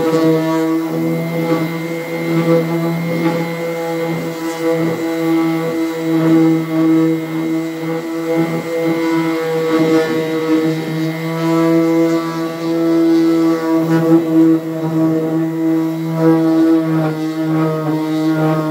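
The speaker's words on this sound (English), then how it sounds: "I'm just going to use a cheap B&Q 30 quid orbital sander" A cheap B&Q orbital sander runs continuously on painted panels with a steady, buzzing electric hum and slight fluctuations as it works across the surface, with no talking.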